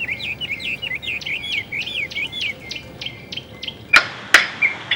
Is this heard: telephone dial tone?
no